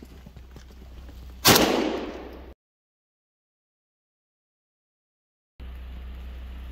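A single sharp report from a new Century Arms AK rifle fired outdoors in snow, loud and close, ringing off for about a second before cutting to silence.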